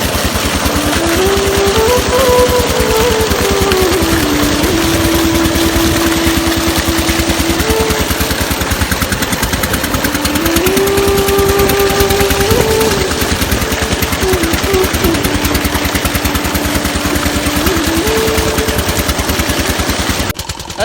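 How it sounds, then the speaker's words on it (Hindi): A diesel tubewell pump engine by a rice field runs loud and close with a rapid, steady chugging beat that holds for the whole stretch, with a faint tonal whine drifting above it. "आज मौसम बड़ा ज़बरदस्त है, ऊपर से हमने ट्यूबवेल चला दिया है, पीछे नज़र आ रहा है।"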